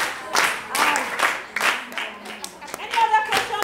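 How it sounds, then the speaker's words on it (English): Children in a classroom clap in short, scattered bursts of applause that rise and fade, with a teacher's voice between them. "Clap for her."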